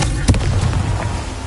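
Confringo fire spell cast in Hogwarts Legacy: one sharp, loud burst followed by a brief crackling, rumbling tail, close and dominant.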